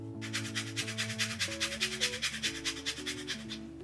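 An orange being zested on a grater, quick rhythmic scraping strokes repeating several times a second, heard up close over soft background music.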